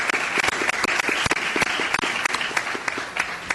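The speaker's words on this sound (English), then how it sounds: "Let's give a round of applause for our candidates." An audience at a school district PTA candidate forum applauds, a steady wash of many hands clapping with a few sharper individual claps, continuous for the whole stretch.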